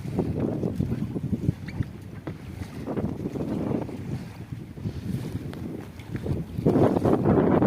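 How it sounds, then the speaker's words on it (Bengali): Strong wind buffets the microphone out on a river during a fishing trip by boat, a continuous low rumbling roar that surges in gusts and swells louder near the end, with no voices heard. "আজ প্রচুর পরিমাণে একটা হাওয়া আছে নদীতে।"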